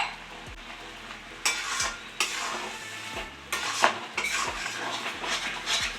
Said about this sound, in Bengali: অনবরত কিন্তু নাড়াচাড়া করতে হবে, নাহলে তলায় লেগে যাবে।